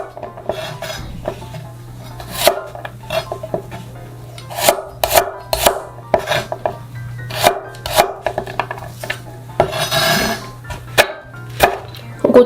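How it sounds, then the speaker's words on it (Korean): A knife cuts garlic into thick slices on a cutting board, each cut a sharp, distinct knock repeating at an uneven rhythm. The strokes sound close and fairly loud over a low steady hum, with no talk. "마늘은 편으로 이렇게 조금 도톰하게 잘라주세요."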